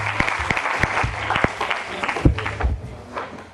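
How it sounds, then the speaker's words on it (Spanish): An audience applauds to welcome a doctor speaking at a school, a short burst of scattered clapping with distinct individual claps rising and tapering, heard close. "Vamos a recibirla con un aplauso."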